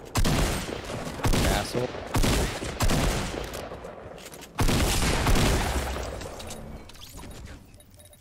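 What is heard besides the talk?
gunfire in Fortnite video game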